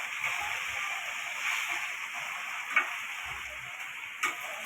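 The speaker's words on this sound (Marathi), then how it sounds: "थोडीशी अशी तिला पालटी करून घ्यायची जरा तेलामध्ये चांगली तिला फ्राय करायचं" Fenugreek leaves with dried bombil fish, turned and fried in oil, make a soft, constant sizzle and hiss throughout, with a couple of faint taps from the spoon.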